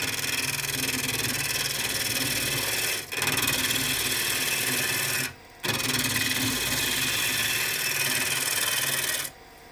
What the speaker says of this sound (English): So this is the perfect example of peeling cuts.